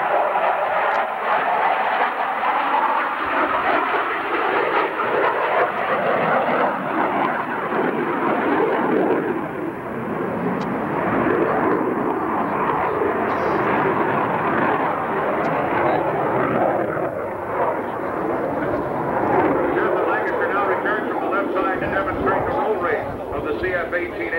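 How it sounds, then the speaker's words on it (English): A CF-18A Hornet jet at a 1989 air show in London, Ontario, Canada, roars as it dives and accelerates, its broad engine rumble swelling and shifting throughout while an announcer talks over it. "the airplane begins to accelerate"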